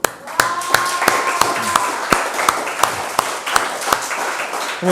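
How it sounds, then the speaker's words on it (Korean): A small group claps for a teacher's upcoming October wedding, a few loud distinct hand claps standing out over a thinner patter of clapping, with faint voices underneath. "박수 한번 줘."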